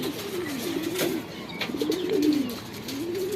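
A Shahjahanpuri pigeon coos nearby in low, rolling, wavering calls that rise and fall continuously, with a few faint chirps and taps behind.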